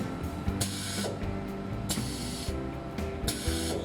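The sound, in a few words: stator winding machine running after pressing start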